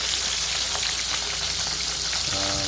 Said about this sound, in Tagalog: luluto na natin yung minarinate natin kanina na lipot